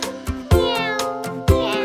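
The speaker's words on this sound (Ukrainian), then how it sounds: "Кішка няв" A cat meows again and again, several short meows in an even rhythm over a soft musical backing.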